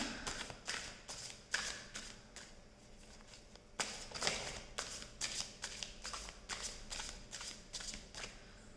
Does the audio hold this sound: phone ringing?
no